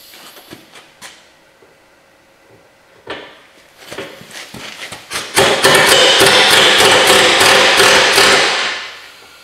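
A 1/2 inch air impact wrench hammers on seized bolts, starting with scattered taps and short bursts, then a loud sustained rattling run of several seconds, close by and without talk.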